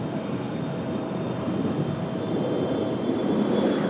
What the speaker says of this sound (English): Comes our second ATR of the night.